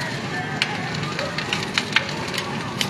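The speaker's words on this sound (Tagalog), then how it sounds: "Laki ng apoy. Nagliliyab eh." A large house fire started from electrical wiring burns in Katuparan, Tondo, Manila, with a continuous roar peppered by sharp crackles and pops, while voices talk in the background.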